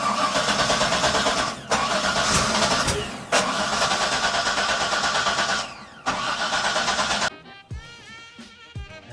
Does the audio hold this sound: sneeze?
no